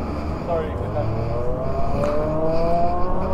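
A mud kart fitted with a Kawasaki ZX10R engine revs loudly and steadily close by, its rising whine climbing over a rough continuous engine roar, with a voice speaking over it.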